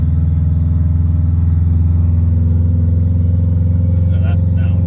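A swapped Subaru GC8 runs at steady load while driving, its engine a loud, constant low drone heard from inside the car, with a faint whistle above it and voices speaking near the end.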